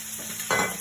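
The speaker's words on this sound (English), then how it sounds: "And now I'm going to add a bit of ghee." Ghee sizzles in a pan while a crab fry is being cooked, a faint hiss that suddenly swells halfway through as the fat hits the hot surface, with no voices.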